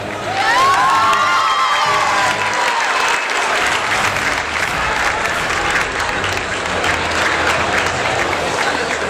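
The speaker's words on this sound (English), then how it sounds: "Can we get a round of applause for Julia?" An audience bursts into loud applause and cheering for Julia at a Survivor show, dense continuous clapping with whoops and shouts, a few rising whistles early on, sustained throughout.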